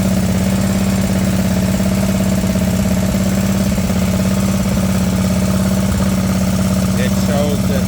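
A Kawasaki engine on a Wright Stander mower idles steadily and loudly with an even, throbbing drone and a low mechanical hum that stays constant throughout.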